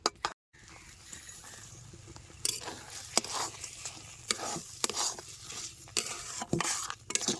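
Semolina being stirred with jaggery in a pan over low heat, a steady close scraping and patter of spoon against metal with soft sizzling, continuous with small clatters throughout.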